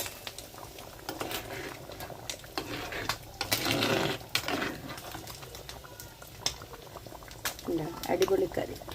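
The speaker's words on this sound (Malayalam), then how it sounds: "ഇതിപ്പം കറി നല്ലോണം തിളച്ച് വറ്റിയിട്ടുണ്ട്." Fish curry bubbling in a pot, a steady soft simmer and patter running beneath frequent talking, with brief louder bursts in the middle.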